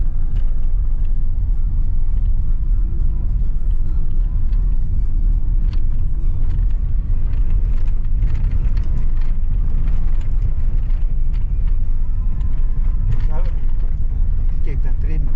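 A car drives along a road at about 35, a constant loud low rumble of engine and tyre noise filling the cabin from start to finish, with people talking inside.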